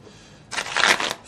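A deck of playing cards is riffle shuffled in the air, a quick close fluttering burst of card edges lasting under a second.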